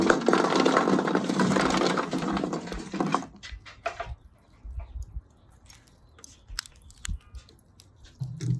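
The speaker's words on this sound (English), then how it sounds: "my charcoal is about 3/4 of the way up the chimney. It is ready to go. So I'm going to dump it out" Hot charcoal is dumped out of a chimney starter onto a grill, giving a loud rushing clatter of coals for about three seconds, followed by scattered crackles and small knocks as the coals settle.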